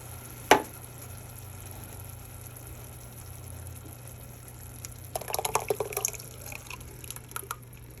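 Canned tomato products pour into a cooking pot with garlic and onions, a soft wet glugging and splattering that swells after a quiet stretch, faint against a low steady background hum.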